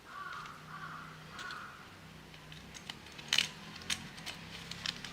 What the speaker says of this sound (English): Got crows here. I don't know if you guys can hear that. Super big crows.